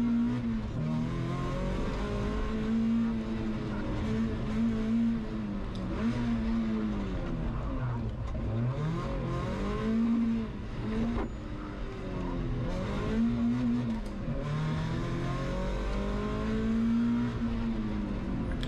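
A rally car on the Barbórka Warszawska stage, its engine revving up and down repeatedly in rising and falling sweeps as it is turned sideways for spectators, loud and close throughout.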